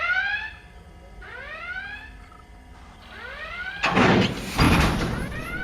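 A blaring klaxon alarm repeats in rising, wailing sweeps inside a missile silo control room, then gives way to a loud, rough grinding and rumbling as heavy silo doors begin to open.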